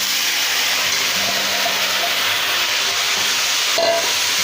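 Ash gourd frying in hot oil tinted with turmeric, a steady loud hiss and sizzle running throughout with faint scraping of stirring, no voices.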